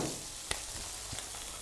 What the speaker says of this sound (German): ist die Pfanne heiß. Ein bisschen Öl rein. Das Fleisch anbraten.